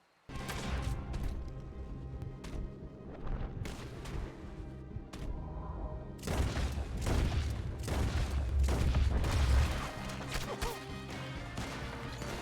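Gunfire in the western video game Red Dead Redemption 2, loud, dense volleys of shots and crashes that grow heavier and more sustained in the second half.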